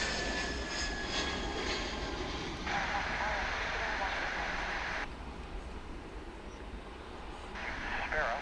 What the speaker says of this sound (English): American Flight 2029, an A321 coming in from the city by the bay, San Francisco